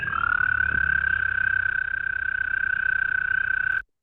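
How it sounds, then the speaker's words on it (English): An American toad gives one long, steady high trill that holds unbroken for nearly four seconds and then cuts off abruptly, loud and close, over a low background rumble. "And then the American toad."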